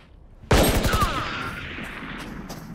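Gunfire from a headshot in the Valorant game: one sharp, loud shot bursts in after a quiet lead-in, with a short rattling follow-up and a ringing tail that slowly fades.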